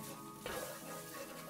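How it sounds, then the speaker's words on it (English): Tomato paste and garlic frying together in a pot for a Georgian kharcho, a soft steady sizzle with a brief stirring scrape partway through, close and fairly quiet with no voices. "So all the tomato paste is inside, all the garlic is inside, we're frying everything up all together."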